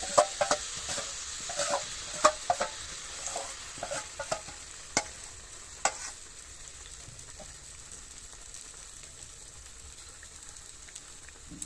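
Pitha frying in hot oil, a low continuous bubbling sizzle punctuated by frequent light taps of a wooden stick during the first half, then settling into a softer steady fizz.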